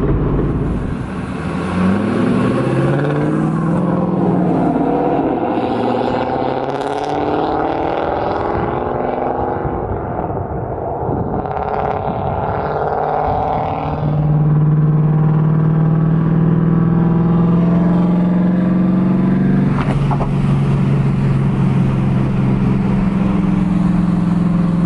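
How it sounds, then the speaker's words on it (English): A car fitted with a Strano master cylinder brace is driven on the road, heard from inside. The engine drones loud and close, with rising revs as it pulls through the gears, then settles into a steady cruise. "I'm gonna go put a couple more miles on the car"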